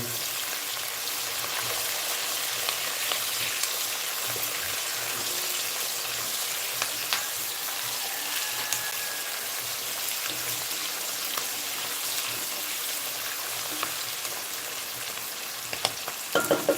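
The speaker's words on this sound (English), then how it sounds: "We'll go ahead and stir that in." Carrot, ginger and vegetables for soup sizzle and fry steadily in a pan while black pepper is stirred in, a continuous hiss with faint scraping, no talking.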